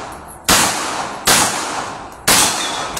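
Three loud gunshots with sharp broadband cracks, spaced irregularly about a second apart, each trailing off into a long echoing decay.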